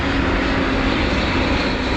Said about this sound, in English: that looks like a 737